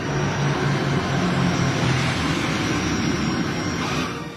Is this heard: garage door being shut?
no